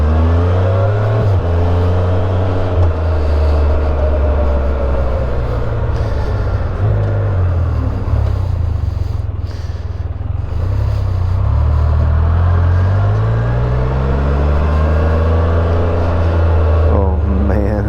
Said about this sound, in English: I'm like all into that belt sound